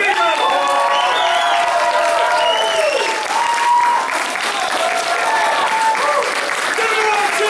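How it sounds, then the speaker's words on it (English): Audience applause fills the hall at a martial arts belt ceremony at the Family Martial Arts Center in Mount Dora, with steady loud clapping mixed with cheering and voices throughout. "Give him a big round of applause!"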